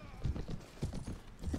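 Horse hooves clip-clopping in the medieval combat game Mount & Blade, a heavy horse trotting with a steady rhythm of low thuds close by, mixed with faint game ambience.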